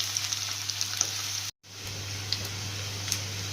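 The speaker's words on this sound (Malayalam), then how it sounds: "വെളുത്തുള്ളി ഇഞ്ചി ഒരു 3/4 മൂപ്പായി" Garlic and ginger frying in a pan of hot oil for a Kerala-style banana-leaf meal, a steady close sizzle with small crackles and a brief dropout midway, no talking.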